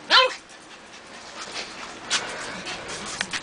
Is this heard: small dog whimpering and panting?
yes